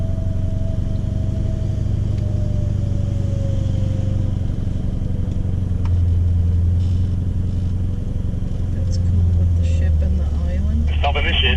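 4WD vehicle driving along a remote Cape York beach below the high tide mark, a steady close engine rumble and tyre noise running throughout, with a person talking over it.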